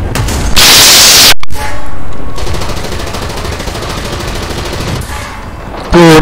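Loud, close gunfire hitting a vehicle in harsh bursts, with a sharp crack near the middle and a dense rattle of shots, alone with no talking.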